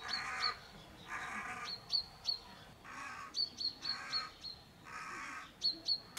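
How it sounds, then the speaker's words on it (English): A noisy bird calls from high up outdoors, giving a run of loud, harsh repeated calls mixed with short sharp chirps, steady and fairly close over faint background ambience. "That's a noisy bird up there."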